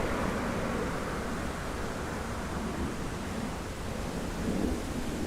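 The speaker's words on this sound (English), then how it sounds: "you could hear the sea breeze through the trees" Steady sea breeze rushing through trees on a Miami evening, a loud, continuous broadband whoosh with slight swells in strength and no voices.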